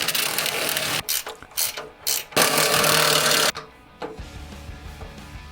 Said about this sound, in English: After liberal use of the impact gun, that rear axle is on.